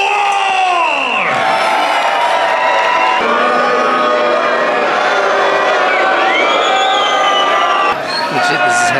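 A loud indoor crowd at a Las Vegas LFA fight event cheers and shouts continuously, a dense roar of voices with rising whoops throughout.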